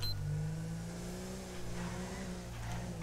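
A car engine in GTA V runs steadily up close, a smooth continuous motor drone with slight pitch shifts as the vehicle pulls in, with no talking over it.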